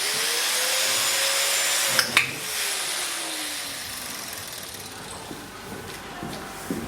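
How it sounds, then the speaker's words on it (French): Electric horse clippers switched on during horse grooming, a steady motor whine that dips in pitch, with a couple of sharp knocks and quieter handling noises, moderately close with no talk. "je vais commencer à mettre la tondeuse en marche"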